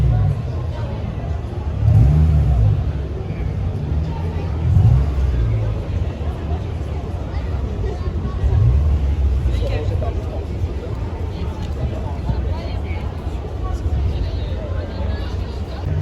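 A classic Ford Mustang Boss 302 at a car meet, its engine revving in a few low, throaty swells over a steady idle rumble, with crowd chatter and voices running underneath throughout.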